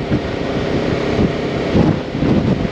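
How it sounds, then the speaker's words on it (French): Strong wind buffets a microphone outdoors in Ireland, a dense, continuous low roar with gusts swelling and fading, and no talk. "Le vent se lève vraiment pas mal là"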